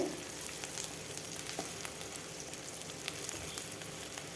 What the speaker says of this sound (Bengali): ভালোভাবে ভেজে নেব পেঁয়াজের কালারটা যখন চেঞ্জ হয়ে আসবে দেখুন এইভাবে ভাজতে ভাজতে একদম লাল লাল কালার চলে আসবে